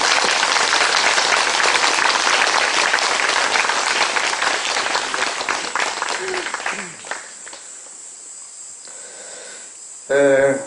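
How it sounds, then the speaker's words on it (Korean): A congregation applauds during a Catholic thanksgiving mass at Baeron shrine in Korea, marking priests' fiftieth ordination anniversary; dense, steady clapping fills the first six seconds, then fades out, followed by quiet room sound and a brief voice at the end. "여러분 축하와 감사와 박수를 함께 보내주십시오"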